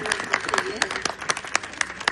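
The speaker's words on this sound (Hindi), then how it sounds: "तो एक बहुत बड़ी ताली इन लोगों के लिए।" Clapping from a gathered audience at a community event about free education for displaced children, heard as sharp, evenly spaced claps in a steady rhythm, fairly close, with a faint voice underneath.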